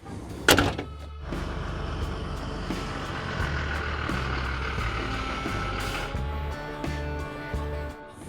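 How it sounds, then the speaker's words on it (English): A truck swings its trailer around with a deep idling rumble, a loud clunk near the start, and repeated reversing beeps pulsing over the engine drone. "let's get the trailer whipped around here and get this thing loaded up"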